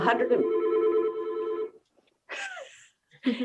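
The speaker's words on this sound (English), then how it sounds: "Now the phone's ringing." A telephone rings in an indoor setting, a sustained tonal ring lasting under two seconds, followed by short bursts of speech-like sound after a pause.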